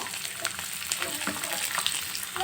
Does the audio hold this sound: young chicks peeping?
no